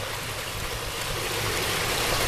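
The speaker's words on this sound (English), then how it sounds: "Water running between rocks with plants and trees all around." Water runs and trickles between rocks in a rainforest exhibit surrounded by plants and trees, a steady close rushing babble with no voices.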